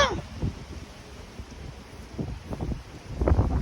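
Wind gusts thump and rumble against the microphone in uneven bursts, growing stronger toward the end, with a soft hiss underneath.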